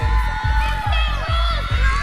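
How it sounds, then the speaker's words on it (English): Teenage Beatles fans in a dense crowd cheer and chant, a loud continuous roar with rhythmic pulsing shouts, music or rhythmic thumping underneath throughout. "The horde of flighty teens waited and chanted."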